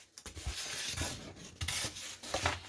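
Foam core board being trimmed with a blade, giving soft rasping cuts in several short strokes, close and fairly quiet, with no talking.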